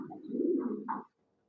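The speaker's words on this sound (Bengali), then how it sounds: "লাহোরি কবুতর" A Lahori pigeon from a pair kept on a pigeon farm gives a single close, soft, throaty coo lasting about a second, followed by silence.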